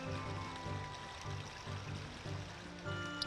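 The waterfall parting in The Legend of Zelda: Ocarina of Time, a soft continuous rush of flowing water with a faint repeating low tonal pattern underneath, quiet and steady throughout.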